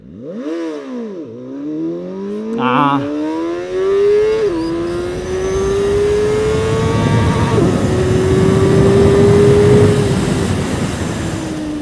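A CFMoto Voom 500 SR motorcycle launches hard, its engine revving up through rising gear pulls with shifts, then holding a loud, sustained high drone as it speeds away, close and dominant.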